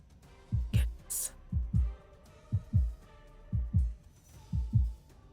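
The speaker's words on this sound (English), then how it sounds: "My heartbeat is all I can hear" A heartbeat effect from an audio drama thumps in paired lub-dub beats, steady and low, about once a second, alone with no talk.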